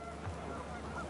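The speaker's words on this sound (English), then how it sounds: "The wind picked up and panicked geese appeared and quickly went." Panicked geese honk briefly in the video game What Remains of Edith Finch, a quiet honk or two sitting low against a faint, steady background of wind.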